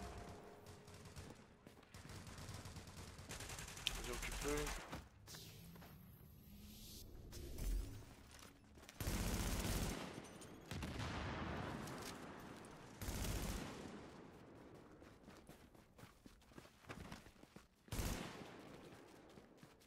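Gunfire in Tom Clancy's The Division video game: bursts of rapid shots and louder blasts come in irregular clusters, some near and loud, others quieter between bursts.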